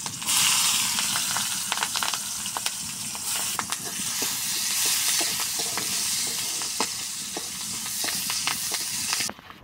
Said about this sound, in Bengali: ভাজা তেলের মধ্যেই মরিচ আর পেঁয়াজ দিয়ে দিব